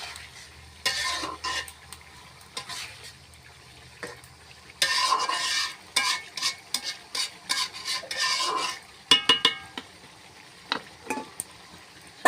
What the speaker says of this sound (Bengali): এই ভাজা মাছগুলো মশলার মধ্যে ঢেলে দিয়ে একটু নাড়াচাড়া করে নিয়ে ঢাকনা দিয়ে ঢেকে দিব।